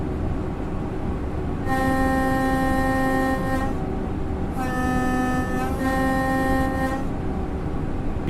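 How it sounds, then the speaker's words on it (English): A Class 843 train in Train Sim World 6 sounds its horn in two long, loud blasts, the second broken into a stuttering pattern, over a steady rumble of the running train. "You can almost feel that horn vibrating on the frame of the train."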